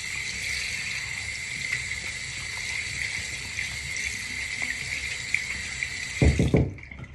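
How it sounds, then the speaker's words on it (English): A tap runs steadily into a sink, with a loud, continuous rushing of water as hands are washed beneath it, then splashing and a brief gurgle as the flow stops near the end. "is wash my hands to make sure they're clean."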